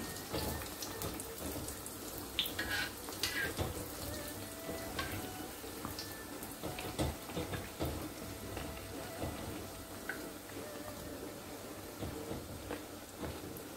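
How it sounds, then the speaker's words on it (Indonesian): Oil sizzles and crackles steadily as han cim piang dough fries, with scattered small pops over a continuous hiss, fairly quiet. "ini digoreng lah sampai habis semua ya"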